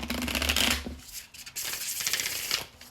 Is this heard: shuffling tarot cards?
yes